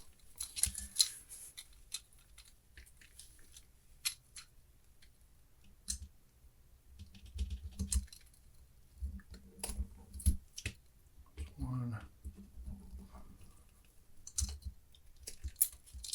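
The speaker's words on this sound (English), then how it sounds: "I'm going to try to nip this off right here with the flush cutters" Flush cutters nip plastic off a Li-ion battery pulled from a Wahl shaver/trimmer, giving scattered sharp clicks and snips close up on a quiet bench.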